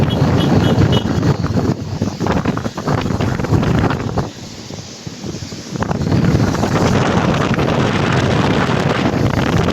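Typhoon gusts tear across Manila Bay with loud, buffeting roars that ease briefly midway before surging back, rough water rumbling beneath and nobody speaking.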